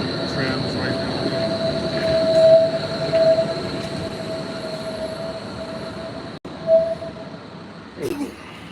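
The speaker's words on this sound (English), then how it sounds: "The tram's coming down." A tram rolls along its rails through a Berlin street, a steady rumbling pass with a sustained high wheel whine, growing and fading, with faint traffic and brief voices near the end.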